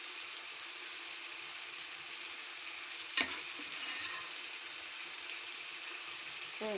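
Curry leaves drop into a pan of fish curry and set off a steady, faint sizzling hiss with a sharp clink of a utensil partway through. No one speaks.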